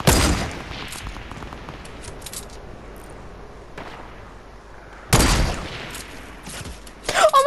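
Sniper rifle shots in the Fortnite video game during a 50 vs 50 match: a loud sharp crack opens, a second burst hits near five seconds, and more crackling gunfire erupts at the end, with a busy battle din between.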